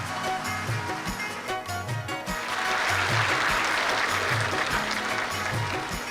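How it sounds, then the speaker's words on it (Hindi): Audience applause at a tribute ceremony honouring an Uttarakhand folk music legend, a steady broad wash of clapping through the whole stretch, with low musical tones pulsing underneath. "एक बार जोरदार तालियां आप सभी की तरफ से"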